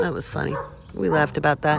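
A neighbor's dog barks and yips in the background in short bursts while a person keeps talking over it.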